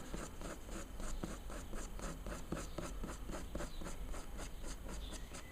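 Cheap oil pastels drag across paper in rapid rhythmic back-and-forth strokes, a close, continuous scratchy rubbing with a steady beat of short swipes.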